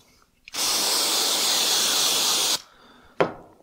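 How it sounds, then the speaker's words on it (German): A spray bottle hisses cleaner onto a cloth in one long continuous burst lasting about two seconds, followed by a brief sharp puff. "Also einmal Tuch nehmen hier. Schon voll sprühen das Ding."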